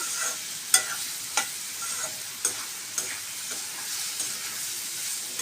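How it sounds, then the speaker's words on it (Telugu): A spoon stirs salt, turmeric and spices frying in a pan, giving a run of sharp scraping clicks every second or so over a soft, steady sizzle. "ఇప్పుడు ఇవన్నీ బాగా కలుపుకుందాము."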